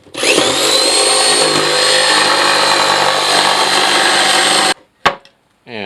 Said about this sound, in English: I'll just cut that out with the jigsaw, starting with a hole in 2 corners